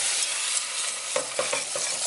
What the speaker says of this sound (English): The flour goes in and stir.